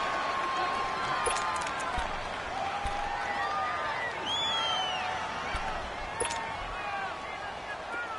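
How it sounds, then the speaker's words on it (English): A simulated stadium crowd in a Madden football video game, with the Cleveland Browns playing the New Orleans Saints in a domed arena, roars as a continuous dense hubbub with whistling and shouts, with a voice talking over it. "The crowd here in the Dome making things difficult."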